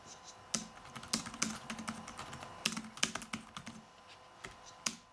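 Typing on a ZAGGKeys Folio keyboard for an iPad Air: quick, irregular clicking keystrokes, close and fairly quiet, with short pauses between bursts and no talking.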